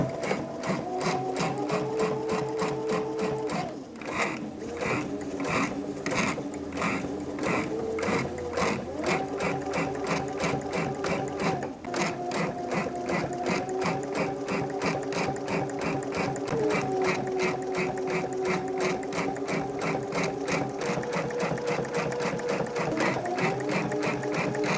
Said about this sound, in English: And now let's head to the machine to sew. And now stitch in the ditch of the seam.